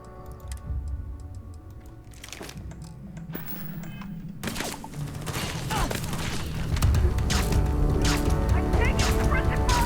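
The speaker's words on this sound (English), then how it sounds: "I'm taking suppressive fire!" Rapid clicking bursts of gunfire in the Starfield space game during a firefight, crackling under music and a speaking voice, growing denser and louder toward the end.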